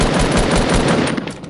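Rapid automatic gunfire rings out in a video game, a loud, continuous burst of close shots that lasts about a second and a half before trailing off.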